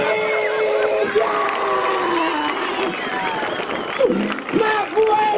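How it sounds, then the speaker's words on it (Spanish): A crowd claps and cheers with scattered whoops and shouting voices, a lively continuous burst of applause mixed with excited yelling. "¡Vamos a aplaudir!"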